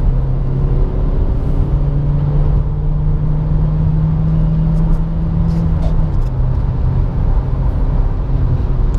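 Renault Duster 2.0 16V engine from the 2017 line pulls uphill in third gear, a steady droning hum that climbs slowly in pitch before easing at about six seconds, heard from inside the car with light road noise.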